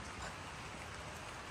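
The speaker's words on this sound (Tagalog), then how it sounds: "Tunog lang yan ng falls." Steady, dense rush of falling water at Brandywine Falls, a continuous broadband hiss like heavy rain with no breaks and no voices.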